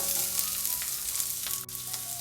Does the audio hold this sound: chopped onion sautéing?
yes